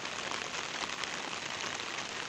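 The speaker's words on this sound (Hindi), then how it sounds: "अभी कल रात से बारिश गिर रहा है" Steady rain falls in a village about 100 km from Mumbai near a small stream, a dense, even hiss of drops on surfaces that holds constant throughout with no voices.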